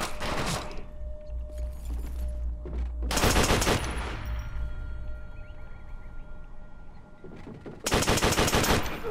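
Rapid machine gun fire in the video game World at War, fast loud bursts with a long sustained stretch, close and dominant with game effects between.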